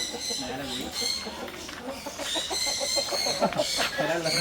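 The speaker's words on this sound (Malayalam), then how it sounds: "ഇവിടെ കുറേ ഫാൻസി കോഴികളൊക്കെ ഉണ്ട് കേട്ടോ" Fancy-breed chickens cluck and call steadily amid a busy farmyard, with a person talking over them.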